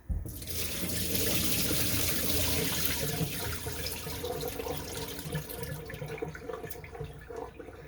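Rice being rinsed in a second wash under a running kitchen tap, a steady close stream of water splashing into a pot or sink for several seconds, with no speech.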